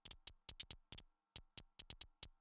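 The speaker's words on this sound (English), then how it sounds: "Then I added this hi-hat pattern with a few rolls in it" A trap-style hi-hat pattern with quick rolls, bright ticking hits in uneven clusters with fast doubled strikes, dry and alone.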